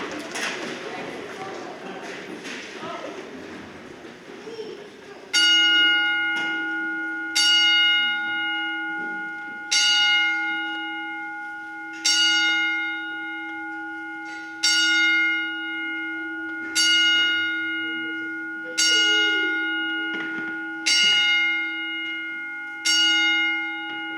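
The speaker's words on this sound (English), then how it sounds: "I want to do a 10-bell salute right now." A ten-bell salute rings out at a professional wrestling event: a murmuring indoor crowd falls quiet, then a bell strikes loudly and evenly about every two seconds, each ring sustaining before the next.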